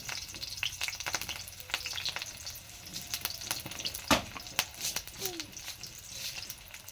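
Hot oil in a wok spits around green chillies with a low, continuous sizzle broken by scattered pops and one louder crack midway, fairly quiet and without speech.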